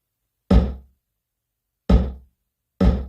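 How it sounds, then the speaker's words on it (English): Pitched-down snare hits on an 808-style sampler: three loud, dry thwacks spaced irregularly with silence between, each a sharp broadband attack with a quick low decay, close and alone. "We're going to pitch the snare sounds down and they're going to sound like this."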